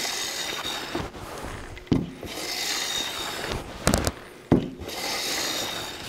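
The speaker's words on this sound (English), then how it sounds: "And I just start planing the edge." A hand plane fitted with a 50-degree angle iron shaves the edge of a curly maple board in repeated long rasping strokes, each ending in a soft knock as the plane is lifted and set back, close and steady.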